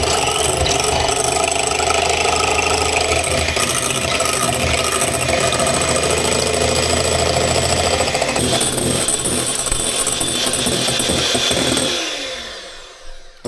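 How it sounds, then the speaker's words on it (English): An electric whisk beats egg whites for a keto Victoria sponge, a loud, steady motor whir with a rattling edge that runs without a break, then winds down and stops near the end. "you need to whisk the egg whites, which we'll do now"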